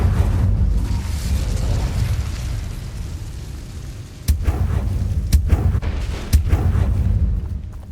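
Incendio, a fire spell cast in the video game Hogwarts Legacy, comes through as a steady roaring, rumbling burst with several sharp pops and cracks in the second half, loud and without speech.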